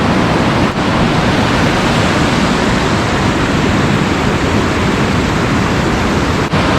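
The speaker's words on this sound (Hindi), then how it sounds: "नदी की पानी के बहने की आवाज़ सुनाई दे रही है" Steady, loud rushing river water at Harshil flows continuously with a broadband roar, close by and with no voices.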